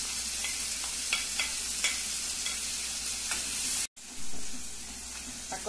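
Tomato and olives sautéing in a pan for a festive farofa, a steady close sizzle with light stirring clicks. It cuts out for a moment, then resumes.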